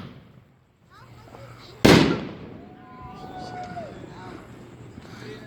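Fourth of July fireworks and firecrackers go off outdoors: one loud nearby bang with a whistling, crackling tail, followed by scattered pops and whistles. People talk faintly in the background.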